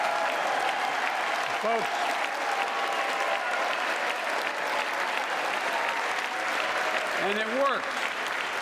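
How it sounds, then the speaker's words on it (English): Sustained applause fills a large chamber during a presidential State of the Union address, a steady broad wash of clapping from a big audience, with a speaker's voice briefly heard over it. "the boos there met with a response of applause"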